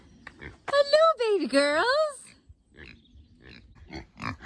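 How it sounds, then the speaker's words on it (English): Kunekune pigs grunt and squeal in a loud, close burst of rising and falling calls, followed by quieter snuffles while someone speaks softly to them. "Do you hear them? I love these coony pigs."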